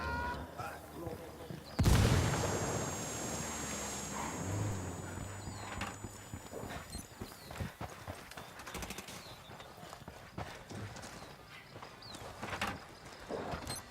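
A Ghost Recon Wildlands frag grenade bursts in one sharp, heavy explosion early on, then fades into lingering rumble, scattered distant shots and in-game ambience at moderate volume.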